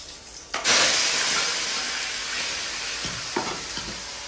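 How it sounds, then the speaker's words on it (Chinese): Diced tomatoes hitting a hot pan and being stir-fried, a sudden loud sizzle that settles into a steady hiss with a few spatula clacks and scrapes near the end, no voices. "然后把那个番茄丁儿炒一下。"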